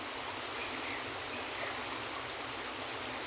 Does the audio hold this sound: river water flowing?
yes